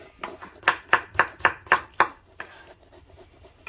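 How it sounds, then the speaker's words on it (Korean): A knife chops a pear on a cutting board in a quick run of about eight crisp, evenly spaced strokes close by, then fading to softer cuts. "채로도 썰고 다지기도 하고"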